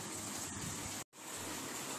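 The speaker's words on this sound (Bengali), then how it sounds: "এই যে খুব বৃষ্টি হচ্ছে এখন, হঠাৎ করে দুপুরবেলা বৃষ্টি এসে গেল" Heavy midday rain falls in a steady, dense hiss with no break except one sudden cut of silence halfway through, a constant wash of close, loud water.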